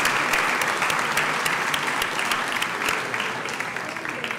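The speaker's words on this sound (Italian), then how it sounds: "Facciamo un applauso." An audience at an academic conference presenting master's programs applauds, dense steady clapping from many hands that stays loud throughout and eases slightly near the end.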